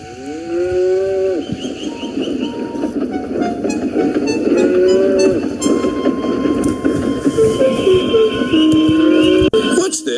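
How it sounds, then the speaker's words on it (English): A cow lows in long drawn calls, several times in a row, near and loud over continuous railway noise from a steam train setting, with a voice speaking through the scene. "What's this? A cow?"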